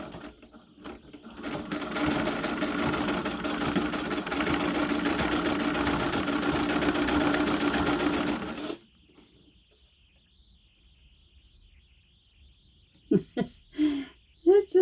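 A treadle sewing machine whirs in a loud, steady run for about nine seconds, then stops abruptly; near silence follows before a person starts talking.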